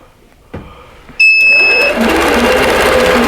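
A computerized embroidery sewing machine stitches out a design, starting with a few beeps and then running as a steady, fast, loud mechanical whir.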